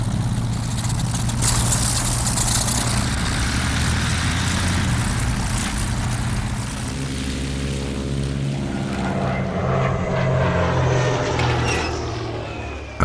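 Steady, loud droning of twin-engine First World War bomber propeller engines, a deep continuous hum with shifting tones as planes pass overhead.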